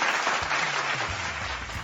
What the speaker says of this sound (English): another round of applause for me and everybody else.